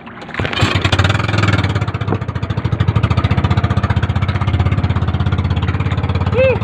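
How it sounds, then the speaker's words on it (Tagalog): A small boat engine sputters to life and settles into a loud, steady chugging putter, with faint voices underneath. "Tayo bibiran muna ng makina."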